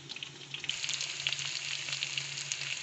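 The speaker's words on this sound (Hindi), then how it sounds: "घी गरम किया है और उसमें प्याज ऐड कर दिया है।" Onions fry in hot ghee for a cauliflower and meat curry, giving a steady, close crackling sizzle with soft popping throughout and no voices.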